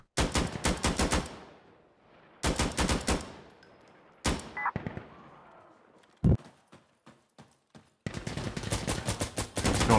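Bursts of enemy automatic gunfire crack through a building window in Insurgency Sandstorm, several sharp rapid volleys separated by short pauses, fairly close and loud, with a few scattered single shots between.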